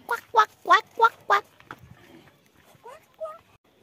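A voice imitates ducks quacking with five quick, loud nasal quacks in a row in a small home kitchen in Northeast India, followed by quieter rustling and a couple of faint chirps.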